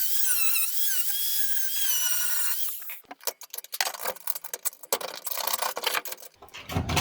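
An angle grinder cuts and grinds the body panel of a Ford Escort MK1 during crash repair. It opens with a loud steady high whine, then breaks into harsh bursts of grinding and rasping, close and with no talking.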